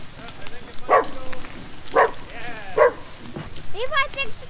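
A dog barks in short, sharp bursts, about four yips spaced roughly a second apart, close and loud, mixed with excited outdoor activity.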